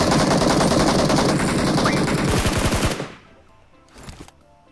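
Rapid automatic gunfire from the PUBG battle royale game, loud, close and sustained for about three seconds, then cutting off, followed by a short softer burst near the end.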